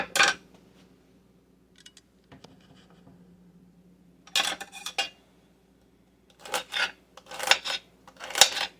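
A kitchen knife cuts through several celery stalks at once into half-inch slices, giving a few crisp crunching bursts on a cutting board after a quiet stretch with faint scrapes, close and clear with no talking.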